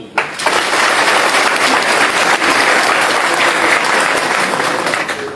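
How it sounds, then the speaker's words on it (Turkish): A crowd at a political candidacy announcement bursts into applause for a candidate, loud dense clapping that starts abruptly and continues steadily without pause. "Kendisine de alkış istiyorum."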